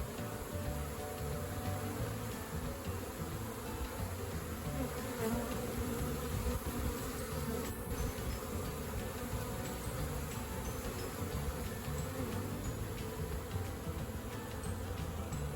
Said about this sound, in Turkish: Bugün Karpat arının videosunu çekeceğim. Yavru uçuruyor.